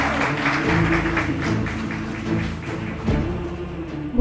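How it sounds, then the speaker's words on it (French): An audience claps loudly and steadily at an evening celebration, a dense continuous wash of hand claps with a final burst at the end. "on applaudit très fort"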